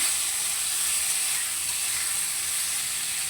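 Boiled mango hitting hot oil with panch phoron five-spice in a pan for mango chutney, giving a steady, even sizzle and hiss that holds at one level throughout, close and alone with no voices.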